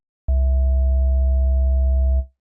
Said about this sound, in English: this sound is kind of reminiscent of a sine waveform